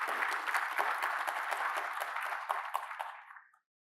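Applause for the Vice Chancellor, Francis Peterson, at the inauguration of a UNU hub at the University of Pretoria, with a steady round of clapping from an indoor audience that fades out after about three and a half seconds.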